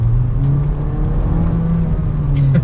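A VW Golf 8 with the 1.5 eTSI engine and DSG gearbox accelerating, a loud steady engine drone with a smooth rising hum heard from inside the car, no talk.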